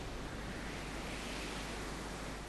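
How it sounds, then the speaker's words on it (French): A furious wind roars in the Final Fantasy XVI video game, a loud, steady, broadband rush that stays constant throughout without pauses or speech. "Quel est ce vent furieux?"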